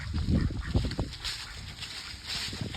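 Chickens cluck and squawk close by in a short burst of noisy, overlapping calls, with rustling and shuffling underneath.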